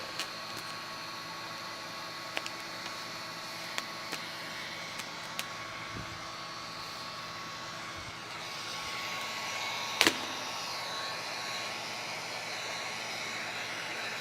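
A heat gun warms tint film on a car tail light, giving a steady, airy blowing whir that runs unbroken at moderate level, with a sharp click near the end and no voices.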